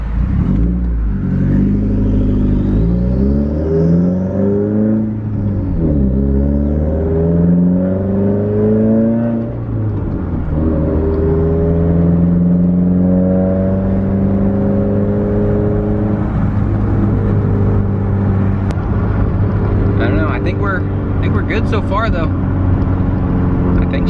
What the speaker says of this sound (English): Those turbo noises though, man, this car sounds so freaking good.